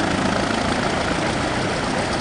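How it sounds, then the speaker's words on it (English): Propeller engines of the C-47 Ticobelle, a Normandy-invasion transport plane, idle before flight, giving a steady, dense roar that fills the whole stretch with no pause. "here is the airplane that we'll be going on"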